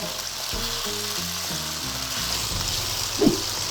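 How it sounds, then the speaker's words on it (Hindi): Chicken frying in hot ghee in a karahi over a high flame gives a steady, close, loud sizzle throughout, with a brief stirring scrape near the end. "हाई फ्लेम पे इसको तब तक फ्राई करें जब तक इसका कलर चेंज नहीं हो जाता।"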